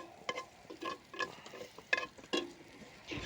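Bacon frying in a pan that still holds leftover egg remnants, giving quiet, irregular sizzling and crackling with scattered pops and a few scraping stirs, close by and with no voices.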